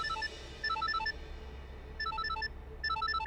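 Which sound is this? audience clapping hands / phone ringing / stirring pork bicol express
phone ringing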